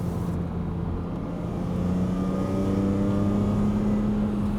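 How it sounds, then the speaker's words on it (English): A BMW Z4 M Roadster with its S54 engine and a swapped exhaust system drones steadily while driving, a low continuous rumble that swells slightly toward the end, with no talking. "listen to those exhaust noises"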